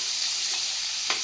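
Thinly sliced onions sizzle and fry steadily in a hot pan for an Andhra-style cashew mutton curry, a continuous close hiss with a couple of faint stirring scrapes and no voices.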